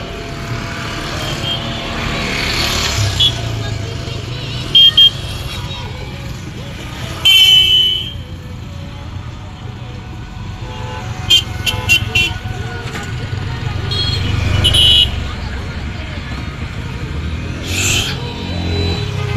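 Busy road traffic on a street lined with chatpati and fuchka food stalls in Dhaka, with a constant engine rumble, scattered short car horn toots and passing vehicles, while people talk throughout.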